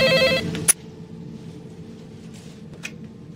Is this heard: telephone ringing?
yes